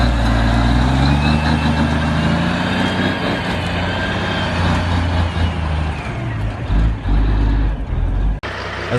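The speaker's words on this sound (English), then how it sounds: "A truck loaded with what is crossing a steep slope, the roar of the engine showing its superior power" A Peterbilt 359 log truck climbs a steep slope, its diesel engine roaring loud and close in a steady, heavy rumble that surges and dips slightly toward the end.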